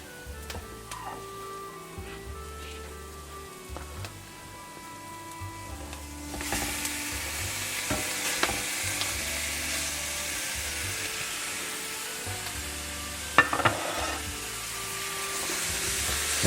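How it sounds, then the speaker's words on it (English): Calamari sizzling on a hot plate in adobo-style cooking, a steady broadband frying hiss that swells louder partway through as the squid hits the heat, with a few low clinks and bumps underneath. "Now I am going to add my calamari."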